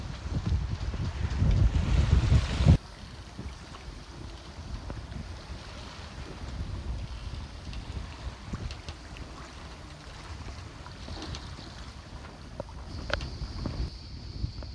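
Wind gusts buffet the microphone at first, then steady wind and water rush past a sailboat running downwind in Greece's Dodecanese islands, with faint creaks and splashes.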